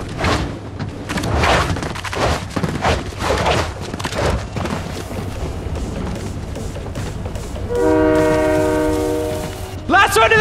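A train's horn sounds in Fortnite, a loud sustained harmonic blast near the end, following about eight seconds of rumbling rail and clattering train noise with voices faintly underneath.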